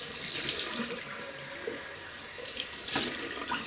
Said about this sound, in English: Rinse off cold water.